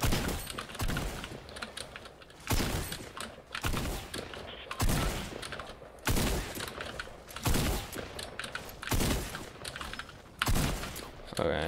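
Video game gunfire: heavy shots in distinct bursts roughly every second or two, loud and close, with keyboard clatter and mouse clicks in the gaps and no talking.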